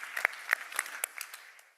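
Sparse, light applause for a panel at a conference opening session, a small scattering of distinct claps that thins out over under two seconds.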